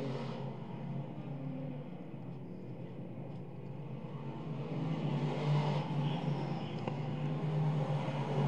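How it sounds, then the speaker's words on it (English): 602 crate-engine race cars at the 602 Nationals at Albany Saratoga Speedway roar through turn four in a steady, loud engine rumble that swells a little louder midway. "Cars together up here off of turn number 4."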